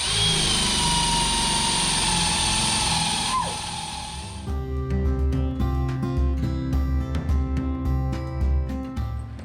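A loud, high-pitched power drill whines for a few seconds drilling holes in a deck beam, then cuts off, followed by clattering and tapping of tools in a workshop.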